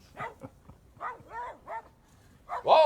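Dogs bark at a bear while chasing it off, a string of sharp yelps and barks some distance away, ending in a louder close bark.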